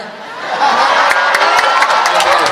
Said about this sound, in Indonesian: pengen tepuk tangan